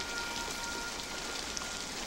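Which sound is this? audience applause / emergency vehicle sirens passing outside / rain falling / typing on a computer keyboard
rain falling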